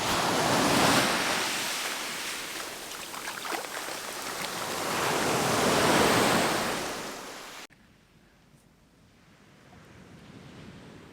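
Sea waves washing onto the shore, heard close and loud with rising and falling surges and wind buffeting the microphone, then cutting abruptly to a quieter, softer wash of surf.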